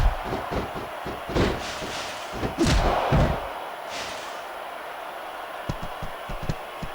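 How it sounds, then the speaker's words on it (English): A ladder swung as a weapon in the wrestling game SmackDown vs Raw 2006 lands several heavy slams and thuds in quick succession, then a few lighter knocks, over a steady roar of arena crowd noise. "he's using that ladder as a weapon!"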